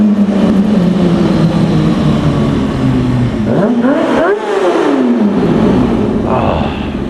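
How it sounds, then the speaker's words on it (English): A car exhaust revs inside a tunnel, loud and echoing, with a rising and falling sweep of engine pitch midway over a steady roaring background; a slippery floor is mentioned, and someone may talk briefly. "Time for some tunnel exhaust."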